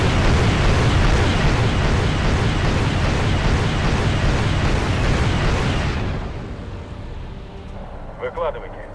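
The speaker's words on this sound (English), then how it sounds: "Let my Cobras have a go at those with their rockets." Cobra helicopter rockets striking T-80 tanks in the Wargame video game, a dense roaring barrage of explosions and rumble lasting several seconds, then dropping off to quieter ambience with a few small pops.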